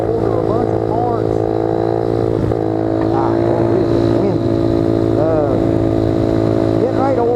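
A 1973 or 1974 Honda Trail 90 motorcycle engine holds a steady, loud droning note during a wheelie, close up and continuous, with some wind noise around it.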